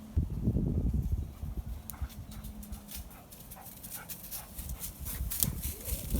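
A dog moves around a backyard workout area, with scuffling paws, soft panting and a light whimper against a steady outdoor background, and no one speaks.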